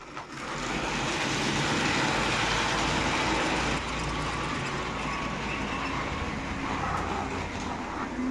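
A model train set with a BR 234 locomotive pulling a flat wagon with a car, a Nysa van, a camping trailer and a living wagon runs steadily, a continuous broad whirring and rumble that holds level throughout.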